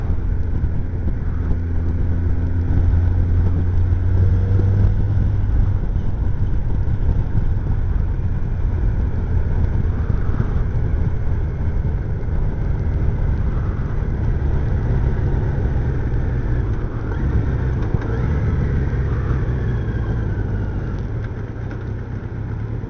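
A motorcycle engine runs steadily after being restarted, a low continuous idle-like rumble that holds for the whole stretch and eases slightly toward the end, with no talk over it.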